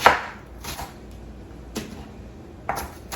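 Half a cabbage is chopped on a board in a home kitchen, with three separate knife strikes spaced about a second apart, close and fairly crisp.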